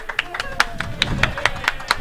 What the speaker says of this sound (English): The late clap for Zenyou.